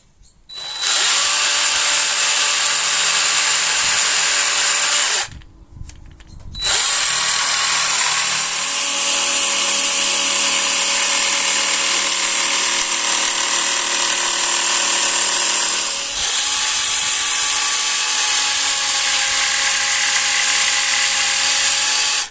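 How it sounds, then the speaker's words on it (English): A jigsaw cuts through wood in a van ceiling build with a loud, steady, close buzzing whine that runs almost without a break, stopping once briefly and starting again. "now I'm going to go cut this out with a jigsaw."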